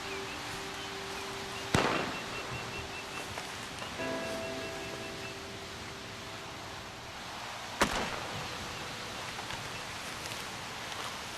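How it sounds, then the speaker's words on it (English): Two distant gunshots in Red Dead Redemption 2 crack sharply several seconds apart over a quiet outdoor ambience. "There's some shooting."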